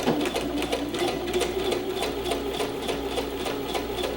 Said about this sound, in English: I'm going to do a couple of back stitches.